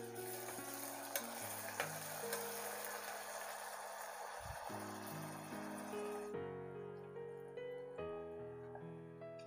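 Onions fry in a pan with ginger-garlic paste for a soya chunk vegetable biryani, giving a steady broadband sizzle beneath prominent melodic background music throughout.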